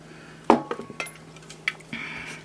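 Clinks and knocks of a bottle against a plain pint glass as Bud Light beer is poured, a sharp close tap followed by smaller clinks and a soft fizzing pour toward the end.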